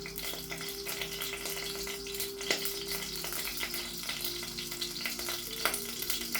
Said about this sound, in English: Once it heats up, it's going to start splattering